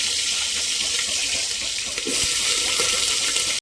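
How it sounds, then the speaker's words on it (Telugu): Curry leaves hit hot oil with a dense, loud, hissing sizzle that runs steadily throughout and swells slightly in its second half before cutting off abruptly. "మనం కరివేపాకు వేసుకోవాలి."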